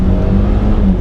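Mitsubishi Evo X FQ-300 GSR engine blipping and revving loudly and close on paddle-shift downshifts, a steady dense roar with no pauses.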